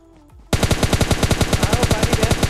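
Rapid automatic gunfire in the mobile battle-royale game PUBG Mobile Lite bursts in suddenly after a quiet start, then keeps going as loud, evenly spaced shots.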